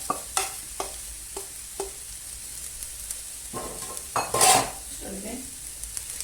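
A leek mixture for a Turkish leek pan dish is scraped and spread into a heated pan, giving a few sharp utensil clinks and scrapes against the pan over a soft, steady sizzle, then a louder burst of frying; no one speaks.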